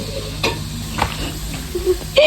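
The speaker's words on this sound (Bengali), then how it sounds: "দেখেন আমার ভাবি মাংস রান্না করতেছে" Meat stirred in a hot pan in a home kitchen, with steady sizzling and a few scraping clinks of a spoon against the pan.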